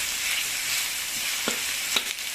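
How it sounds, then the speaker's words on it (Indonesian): Onions are stir-fried in hot oil for nasi goreng. A bright, steady sizzle plays close up, with two or three soft spatula scrapes. "Masukkan bawang bombaynya juga, kita aduk-aduk,"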